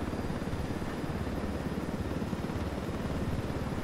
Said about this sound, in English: There's a helicopter back there.